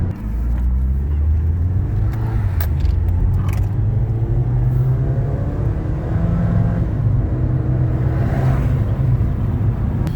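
A Ford Focus engine runs after an induction cleaning, a steady, close idle with a low even rumble and small changes in pitch, and occasional light clicks over it.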